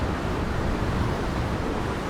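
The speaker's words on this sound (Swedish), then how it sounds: "Åh, vilka vågor." Atlantic Ocean surf roars in a steady, dense wash along the shore, with wind buffeting the microphone and no voices over the rumble.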